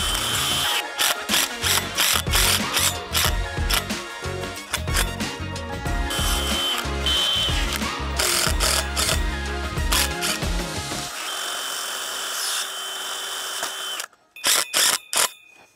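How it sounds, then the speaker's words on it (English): A power drill drives a screw into a wooden fence post while extending a 4-foot fence to 6 feet: repeated whirring and ratcheting bursts over about eleven seconds, a quieter stretch, then a few short final pulses. "that's where I'm going to use that second screw on the other side"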